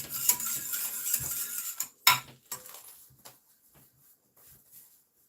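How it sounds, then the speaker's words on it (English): Three tablespoons of melted butter whisked in a bowl for fluffy pancake batter: a run of close metallic clinks and scrapes of the whisk against the bowl, busy at first, then thinning to a few scattered taps and fading out. "I'm going to whisk that together."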